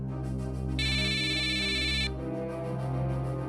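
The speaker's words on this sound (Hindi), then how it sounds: "कहीं फोन बज रहा है क्या?" A phone ringtone plays a bright repeating melody for about a second and a half, over a steady low hum and background music.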